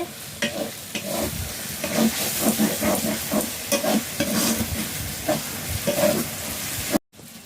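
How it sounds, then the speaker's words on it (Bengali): Spice paste for rustic chicken curry stirred and fried in a pan, with a steady sizzle under repeated scraping strokes of a spoon, close and busy throughout, then cut short at the end. "ভালো করে নাড়াচাড়া করে মশলাটাকে আমি কষিয়ে নিচ্ছি।"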